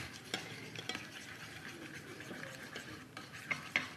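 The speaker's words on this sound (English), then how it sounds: "So just mixing that together" Salted egg yolk paste for a prawn dish is stirred in a bowl, with soft scraping strokes and a few sharp utensil taps against the side, close and fairly quiet, no talking.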